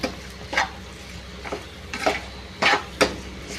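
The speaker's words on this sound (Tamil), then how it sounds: "இப்போ நம்ம எடுத்து வச்சுருந்த சுண்டைக்காயை இதில் போட்டு நல்லா மசாலாவோடு நல்லா மிக்ஸ் பண்ணி விட்டு வதக்குங்க" Turkey berries stirred and sautéed in masala in a pan, with a steady low sizzle broken by several distinct scraping strokes of a spoon against the pan, spaced irregularly, close and clear with no talk.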